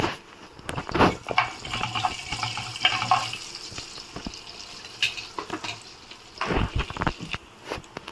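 Mustard seeds, cumin, urad dal and chana dal crackle and sizzle in hot oil for an egg potato curry, a steady frying hiss with scattered pops and spits, close and fairly quiet, with no talking.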